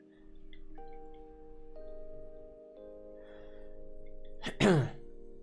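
A single sharp sneeze bursts out near the end, close and loud, after a quiet stretch of faint steady tones.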